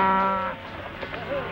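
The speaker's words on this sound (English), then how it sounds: "Those is nice tender cows." A cow lows in a long, drawn-out moo at moderate distance in a quiet riverside setting, fading after about half a second into soft ambient noise.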